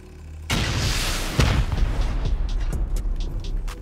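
A rocket explodes against an armored wall of a camouflaged treehouse base in a survival shooter game, a sudden loud boom followed by a sustained rumbling roar and scattered crackling debris.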